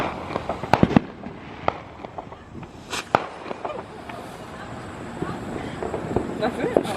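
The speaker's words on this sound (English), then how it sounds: "That's my first firework" Fireworks set off at close range outdoors give several sharp cracking bangs and pops in irregular bursts, with people's voices talking and exclaiming in between.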